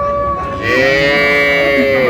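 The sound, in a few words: cattle mooing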